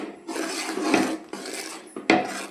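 A spoon scrapes and rubs around a pan of melting jaggery, giving several close, gritty stirring strokes broken by short pauses, with no talking.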